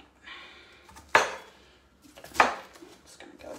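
Knife chopping red cabbage into bite-sized pieces on a board, two sharp close thunks about a second apart, with soft rustling of cabbage and handling between them.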